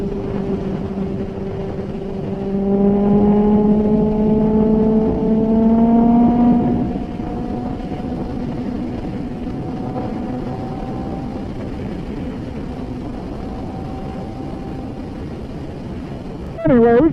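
A 2017 Kawasaki ZX10R motorcycle with an M4 full exhaust system on a ride: a loud, close engine drone climbs in pitch as it revs through a gear, then settles into a steadier cruising tone.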